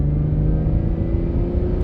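A 2022 Acura NSX Type S SH-AWD hums steadily from inside the cabin on a short test drive, a continuous low engine and road drone with even tone and no talking.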